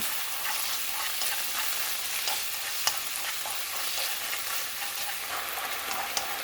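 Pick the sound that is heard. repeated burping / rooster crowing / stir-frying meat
stir-frying meat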